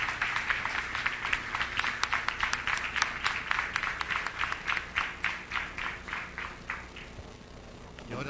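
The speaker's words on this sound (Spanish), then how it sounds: "agradecemos un fuerte aplauso la presentación de ambas sedes." Applause after the presentations of both campuses at a student debate on teaching the Mapuche language, a steady round of clapping that holds for several seconds and then gradually thins toward the end.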